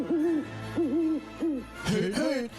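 An owl gives repeated hoots, four or five wavering calls at a steady pace, close and clear over a faint low hum, with no voices.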